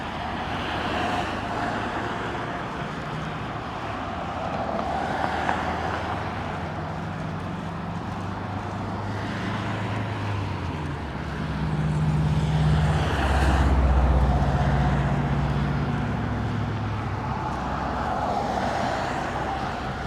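A BNSF freight train starts to move under a bridge in Aurora, Illinois, giving a low, steady rumble that swells toward the middle, mixed with wind and distant road noise.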